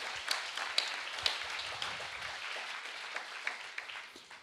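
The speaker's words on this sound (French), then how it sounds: "Vous pouvez les applaudir." Applause for panel members at a conference, a moderately distant, steady clatter of many hands that thins slightly toward the end.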